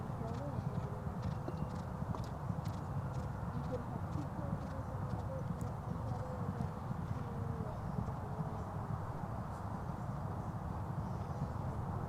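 At a show jumping event in France, horses' hooves clip-clop in a fast, steady, faint rhythm throughout, beneath a continuous announcer's voice and crowd hum.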